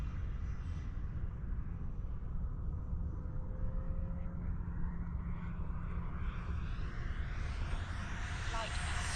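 An FMS Yak-130 electric model jet flies at full throttle, its ducted-fan whine a steady, fairly distant roar that rises slowly in pitch as it passes.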